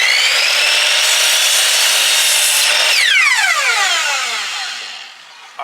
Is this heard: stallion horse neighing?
no